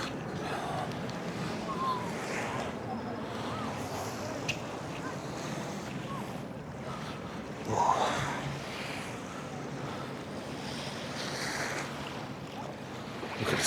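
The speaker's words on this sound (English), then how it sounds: "Look at the sea." Sea waves on a beach at Tsilivi, Zakynthos, Greece, give a steady washing roar over wind rumble on the microphone, with one louder splash surging partway through.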